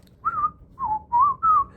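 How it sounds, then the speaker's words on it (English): A person whistles a short phrase of Always Look on the Bright Side of Life, four clear, close, pure notes with brief gaps, alone without talk. "not many people can whistle like that"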